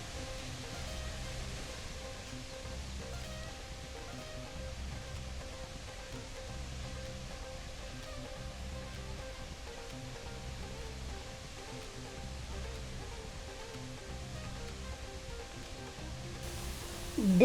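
A waterfall gives a steady, even rushing wash of water that sounds fairly distant and soft, with no voices over it.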